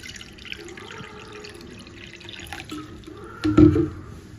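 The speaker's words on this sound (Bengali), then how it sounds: "এবার এই বাটির মাপে আমি জল দিয়ে দিচ্ছি 2 বাটি।" Water is poured from a bowl into a pot of sugar, a soft trickle and splash that swells into a brief louder gush near the end, close and without talk.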